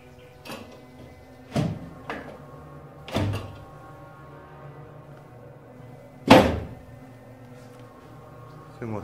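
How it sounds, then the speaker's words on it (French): Several sharp thuds of a door banging shut inside a castle during a paranormal investigation, four or five separate knocks spread out in quiet, the loudest near the end, no talk. "Claquez une porte."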